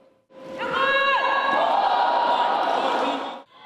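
A volleyball national team shouts a vigorous chant together at the start of training, a loud sustained group cry filling the gym for about three seconds.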